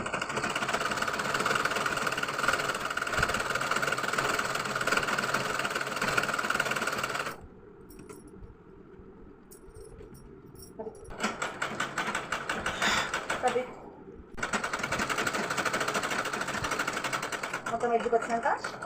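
Sewing machine double-stitching the edge of a luggage bag: loud, steady mechanical whirring in long bursts, broken by a quieter pause and a brief stop before running again.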